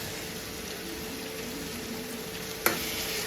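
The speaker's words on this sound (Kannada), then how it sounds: "ಈ ಪೇಸ್ಟ್ ಹಾಕ್ಕೊಂಡು ಚೆನ್ನಾಗಿ ಮತ್ತೆ ಹಸಿ ವಾಸನೆ ಹೋಗೋವರೆಗೂ ಫ್ರೈ ಮಾಡ್ಕೊಳ್ಳಿ" Ginger, garlic and onion paste frying in a pan for chicken pepper fry, a soft continuous sizzle with one brief sharp clink near the end, no talking.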